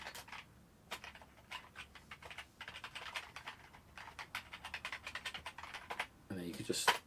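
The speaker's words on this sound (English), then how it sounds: "that's me using the original Acorn keyboard" Keys clatter on an original Acorn computer keyboard in quick, uneven bursts of close clicks, with a faint voice-like murmur in the background.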